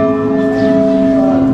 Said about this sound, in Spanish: el toque de las campanas.